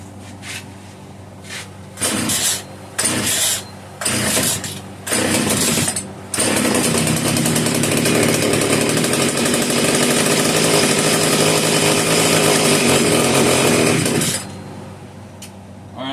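A rare Italian-made Castor 330 Antivib (Alpina) chainsaw with a hard-to-engage choke and a suspected carburetor diaphragm fault: several short, sharp pull-start bursts, then the engine catches and runs loud and steady for about eight seconds before cutting back.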